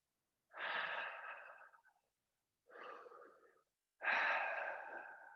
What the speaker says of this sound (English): 2 more big breaths here.